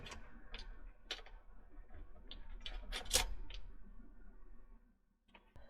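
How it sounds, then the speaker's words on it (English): A razor slices through budget blackout covering material for a 2025 Runaway camper: soft, scratchy cutting strokes and small ticks come in short close bursts over a low background hum, then briefly go quiet. "Once you get the razor started, it'll cut it just fine."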